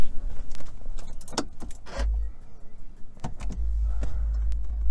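Keys jangle near a car's ignition as it is switched on, a few close metallic rattles and clicks over a low background rumble, with no talk.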